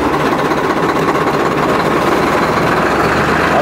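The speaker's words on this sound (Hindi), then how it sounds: "दिखाऊँ भाई, स्टार्ट करके ट्रैक्टर में दिखा दूँ?" A tractor engine runs steadily, a loud continuous rumbling drone close by with no talk over it.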